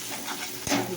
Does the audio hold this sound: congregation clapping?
no